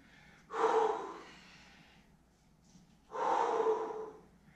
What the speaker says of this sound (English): Deep breath in. Breathe out.